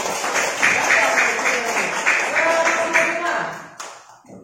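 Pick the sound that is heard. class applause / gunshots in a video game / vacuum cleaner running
class applause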